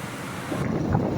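Rain drums on a car driving along a road toward the Mata Baglamukhi temple, a steady broadband hiss that grows slightly louder partway through the short stretch, with no voices.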